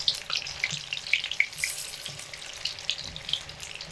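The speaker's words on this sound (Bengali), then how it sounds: "আমি এবার একটা একটা করে মুইঠা উল্টে দেবো, যাতে করে অপর পিঠটাও খুব ভালোভাবে ভাজা হয়।" Soybean muitha dumplings fry in a pan over medium heat, giving a steady close sizzle scattered with small sharp pops and crackles throughout, with no talking.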